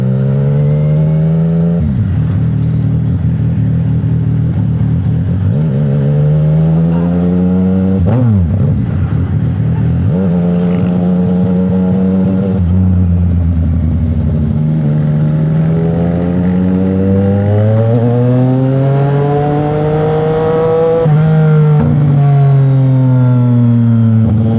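A CFMOTO 675 NK motorcycle rides through city streets, its engine note rising and falling through repeated gear changes and throttle sweeps, loud and close throughout with no talking.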